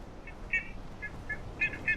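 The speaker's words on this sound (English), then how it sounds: "I hear a bird." A bird in a horror video game gives a run of short, bright, warbling calls in quick bursts over a faint low background, with no voices.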